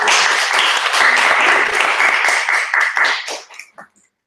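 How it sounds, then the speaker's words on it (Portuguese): A small audience at a group study meeting gives a round of clapping, dense and lively at first, then thinning into a few scattered final claps before silence. "Vale até umas palmas."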